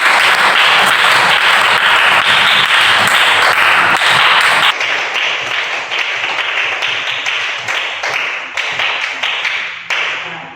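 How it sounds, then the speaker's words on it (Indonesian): Schoolchildren in a classroom applaud loudly together. After about five seconds the clapping thins into looser, distinct claps that taper off toward the end. "Ya, tepuk tangan ya."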